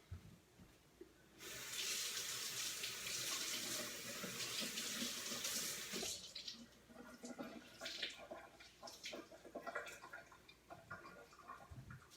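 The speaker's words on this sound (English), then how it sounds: "So I'm going to wet the cloth." Running water from a tap pours steadily for several seconds as a cloth is wetted for removing makeup, then stops, followed by softer wringing, dripping and handling sounds close by.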